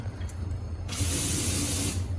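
Aerosol spray paint hisses steadily onto a homemade lawnmower-engine bike, starting after a short pause and holding loud and close for over a second, with no talking.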